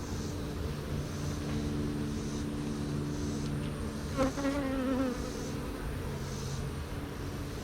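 Honeybees from a hive opened for varroa mite testing give a steady, dense, close buzz throughout, with one brief louder rising whine partway through and no talk.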